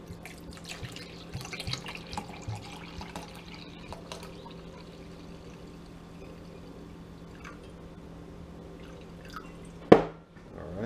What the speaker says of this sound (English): So I'm going to pour out my apple cider vinegar,